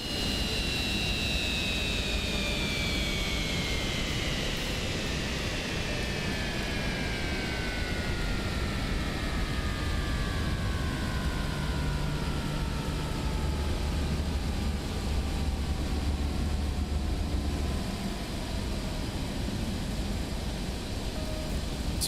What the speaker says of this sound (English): It's very important to enjoy the spool down sound just as much as the spool up.